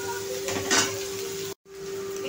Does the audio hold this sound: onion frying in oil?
yes